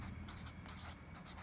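Pen or pencil writing on paper during a math lesson, a steady scratchy stroke sound in short bursts, fairly quiet and close, with no talking.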